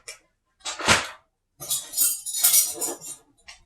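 Metal cutlery clinks and rattles up close as it is handled and packed into a bug out bag, in a few short bursts separated by brief pauses.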